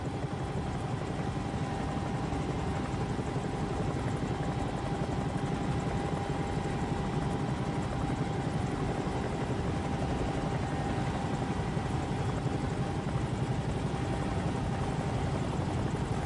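A simulated Bell 222 helicopter descending in a flight simulator game, a steady, loud, unbroken rotor and turbine drone with a constant whine and no pauses throughout.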